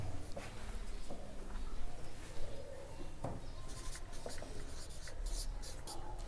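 Chalk or marker scratches across a classroom board in short strokes and taps while solving a Class 12 integrals area problem, close and steady, with occasional faint voice in the background.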